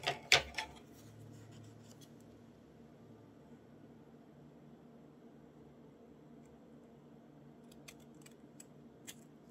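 Scissors cut paper for a collage in a few quiet, crisp snips, a quick cluster at the start and a couple more near the end, with faint room hiss in between.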